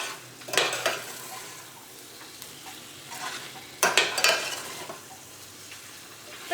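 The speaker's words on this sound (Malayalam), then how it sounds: "ഈ കറി നമുക്കൊന്ന് ഇളക്കിയിട്ട് കൊടുക്കാം" Chettinad pepper chicken curry is stirred in a pan over the heat, with a steady sizzle of cooking under bursts of scraping and spoon-on-pan clatter, close by and with no talk.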